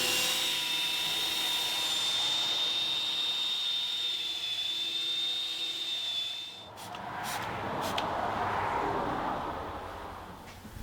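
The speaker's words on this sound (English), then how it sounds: "You're basically sanding it down." A drill with a buffing pad whines high and steady for several seconds, then its pitch drops as it sands a plastic headlight with a rougher, buzzing scrape.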